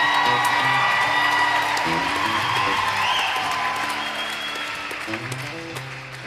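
An audience bursts into applause with a few whoops, clapping loudly at first and then gradually thinning out, with faint tonal sounds underneath.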